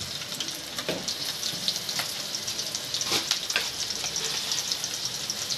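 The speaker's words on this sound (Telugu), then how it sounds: "1 స్పూన్ ధనియాలు, 1/2 స్పూన్ జీలకర్ర ఇవి వేసుకొని బాగా వేపేసుకోవాలి" Coriander seeds and cumin frying in hot oil with green chillies for cabbage pachadi, a steady close sizzle with occasional crackles and pops throughout.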